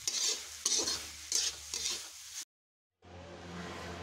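Food is stirred and fried slowly over low heat in a pan, with rhythmic scraping strokes over a dense sizzle, a brief cut to silence, then steady frying resumes.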